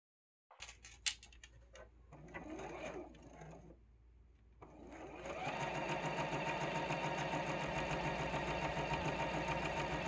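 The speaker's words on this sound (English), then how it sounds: "So now I'm going to take this center square and the smaller square and sew that right sides together." A sewing machine stitching quilt squares right sides together, starting in short uneven bursts, then running steadily at a fast, even hum with a constant mechanical whir, close and alone.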